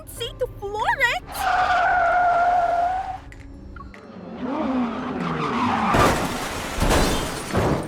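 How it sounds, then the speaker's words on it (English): A car in the game Love and Deepspace speeds up hard, its engine whining and rising in pitch, then tires squeal and skid loudly over a continuous roar of motion. "the red needle on the speedometer rapidly climbs and reaches 200"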